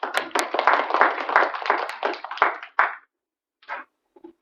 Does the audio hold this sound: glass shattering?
no